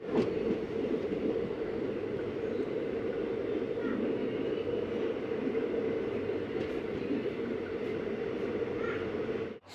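The Palakkad Town–Tiruchirappalli express rolls into Coimbatore North station, a loud, continuous rumble and rattle of the moving train heard up close, steady throughout and cutting off abruptly at the end.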